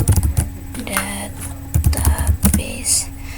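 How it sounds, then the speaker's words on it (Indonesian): Computer keyboard typing during a command-line session entering Apache Hive database commands, clicking in quick irregular bursts with short pauses, close and fairly loud, with brief murmured speech in the background. "kemudian kita ketik aja di sini create"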